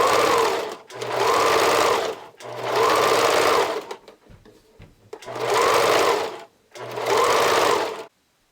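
Sewing machine stitching elastic onto a Hyacinth bralette in four loud, close runs of about a second and a half each, separated by short pauses with light handling noise.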